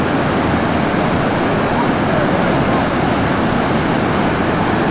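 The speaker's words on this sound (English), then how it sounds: "See all the water rushing down." Steady, dense roar of a waterfall in Iceland crashing down, a broadband rushing noise that stays constant and loud throughout with no breaks.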